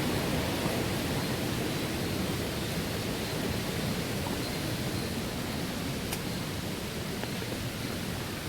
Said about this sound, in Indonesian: Sungai di gunung seperti ini